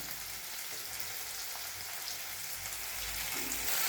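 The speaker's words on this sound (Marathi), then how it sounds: "आता आलं लसणाची पेस्ट पण चांगली परतून झाली." Ginger garlic paste frying with tomato and onion in a pan makes a continuous, fairly faint sizzle and crackle that swells slightly toward the end, with no voices.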